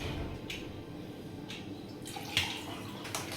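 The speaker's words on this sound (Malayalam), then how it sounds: "ഒരു 1/2 ഗ്ലാസ് സോഡ ഒഴിക്കണം കേട്ടോ" Soda pours steadily into a glass with a soft fizzing hiss, broken by a few brief, sharper splashes near the end.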